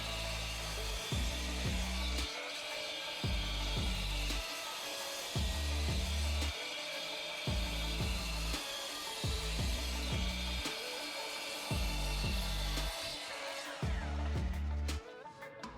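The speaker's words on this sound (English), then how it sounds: "We're just going to chop it down to a bit more manageable size with the miter saw." A miter saw chops a piece of oak in a workshop, with repeated loud cuts, each a whining burst separated by short pauses, running across the whole stretch.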